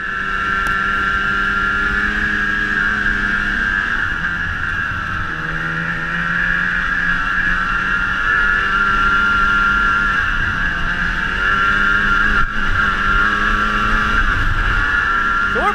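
Snowmobile engine humming steadily while riding over snow, a loud continuous drone with gently wavering pitch as the throttle shifts, heard close and alone.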